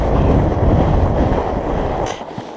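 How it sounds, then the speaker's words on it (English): Strong wind buffets the microphone during a night ride on a Surly Moonlander fat bike, a steady loud rumbling roar throughout that eases slightly near the end. "There's a pretty strong wind."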